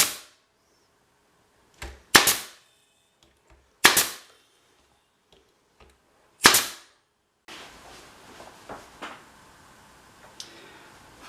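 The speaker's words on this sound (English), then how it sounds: "Now we'll pull out the staple gun and start stapling down the line." A staple gun fires into wooden beehive frames in four sharp, loud snaps spaced a couple of seconds apart, each with a quick clack of the mechanism, followed by softer handling and shuffling noise.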